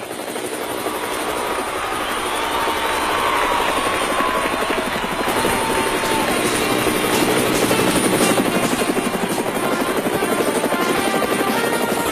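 A loud, steady aircraft drone, a helicopter's whirring rotor hum, fills the air continuously and grows slightly stronger as it goes on.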